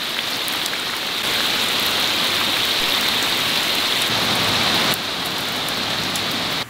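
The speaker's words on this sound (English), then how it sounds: "I thought I'd bring the table saw up and start cutting these plates, but no, it's gonna rain instead." Steady rain pours down outdoors, a dense continuous hiss of drops on surfaces that holds at an even, fairly loud level throughout with no voices.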